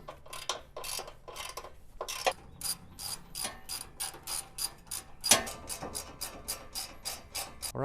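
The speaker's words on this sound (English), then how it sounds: "I really like on these inside ones to use a ratcheting wrench." Ratcheting wrench turning front bumper bolts on a 2020+ Ford Transit van, a steady series of quick rapid clicking bursts repeating throughout, close and fairly quiet, with no talking.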